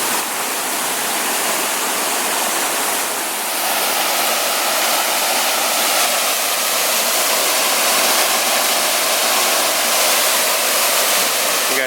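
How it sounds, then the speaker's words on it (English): A clear-water waterfall pours steadily in the foreground, its broad, continuous rush close and loud from start to finish with no one speaking. "Really nice waterfall here."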